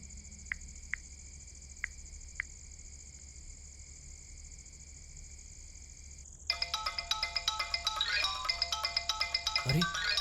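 A phone ringtone plays in a Hindi-dubbed South Indian horror movie, starting with a few sparse beeps over a steady tone and then breaking into a loud, rapid, busy ringing melody for the last few seconds.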